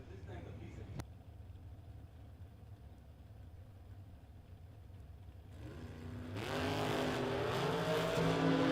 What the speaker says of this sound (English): Lynn Bowie in the dragster, down 475. Going to chase after Kevin Little in the 41 Willies